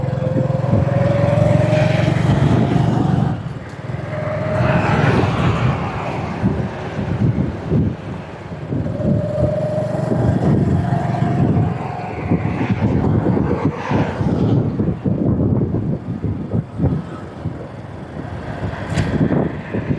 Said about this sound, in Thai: เสียงรถ